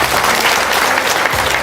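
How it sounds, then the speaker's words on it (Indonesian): Audience applause during a religious talk session, loud, dense clapping from a crowd sustained evenly throughout, close and full. "Tepuk tangan dong, luar biasa."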